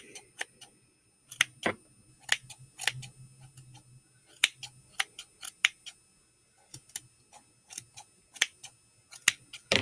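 Scissors snipping the tied-off end of fabric on a handmade Christmas gnome to fray it, heard as a series of crisp, close cuts in uneven bursts against a quiet background.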